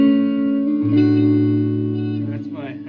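An electric guitar is played through the P90 pickup on a Telecaster, sustained chords with a low note joining midway and fading out, heard clean and close.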